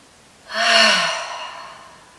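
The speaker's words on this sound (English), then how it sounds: "take a deep inhale through the nose. And exhale, release." A single deep breath drawn in through the nose and then released in a long, soft exhale with a slight voiced sigh, close and quiet, at the end of a yoga flow session.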